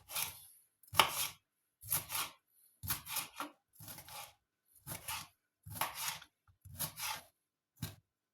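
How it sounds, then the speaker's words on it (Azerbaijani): A knife chops vegetables on a board for a crab salad in a quiet, steady rhythm of about nine short cutting bursts, roughly one each second, with silence between strokes. "Və digərlərini doğrayırıq"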